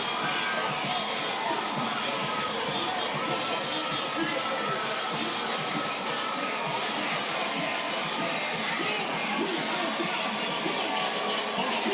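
A dense crowd at the Zulu Mardi Gras parade on St. Charles Avenue in New Orleans keeps up constant, loud cheering and shouting, with children's voices mixed into the continuous roar.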